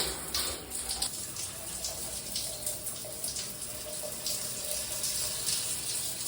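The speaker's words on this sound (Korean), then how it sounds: "조금 틀어놔야겠다, 저쪽 샤워기도." A shower runs in a hotel bathroom in Peru, sending out a steady, even hiss of flowing water throughout with no pauses.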